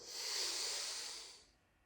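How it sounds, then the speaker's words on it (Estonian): A single long breath during a meditation breathing exercise, a steady airy hiss that holds close and clear for over a second, then fades away. "Et sa teed nagu 4 sisse hingamist, 4 hoiad kinni, 4 hingad välja."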